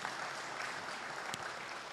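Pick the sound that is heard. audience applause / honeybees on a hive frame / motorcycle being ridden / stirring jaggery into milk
audience applause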